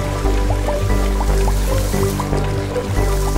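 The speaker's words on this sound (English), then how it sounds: "Water drops in the cloud get bigger, then it rains." Cartoon raindrops fall in a steady series of bright, rising plinks, about two per second, over a low continuous bed of background music.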